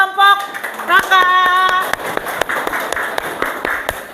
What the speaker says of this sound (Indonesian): Terima kasih dan tepuk tangan untuk kelompok Raka.